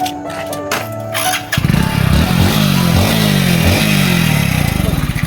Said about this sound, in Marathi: तरी फायनली आपली गाडी चालू झालेली आहे.